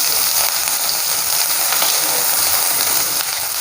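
Onions frying in a pan for egg prawn fried rice, a loud, dense, continuous sizzle heard close up with faint crackles and stirring underneath, steady throughout with no voices.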